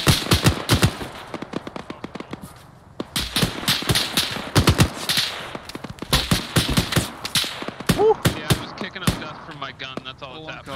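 Rapid bursts of machine gun fire ring out in a military shooter set in Grenada, with a Marine grenadier in the fight. Sharp, loud volleys repeat in clusters with short pauses, and a radio voice talks over the firing.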